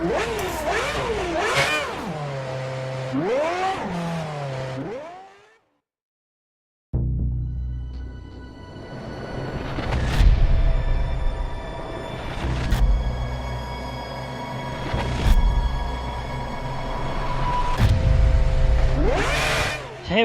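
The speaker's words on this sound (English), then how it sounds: "Get the car off the jacks and start the engine." A racing car in an F1 video game, on the Abu Dhabi Grand Prix grid, revs with rising and falling pitch sweeps. After a short silence the engine fires and runs loud and close, with repeated throttle blips over a rough idle.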